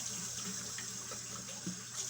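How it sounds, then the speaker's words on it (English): Water runs steadily from a tap to rinse out a funnel that was used with clay. The flow is a soft, continuous splash close by, with no talking. "I got to rinse out the funnel."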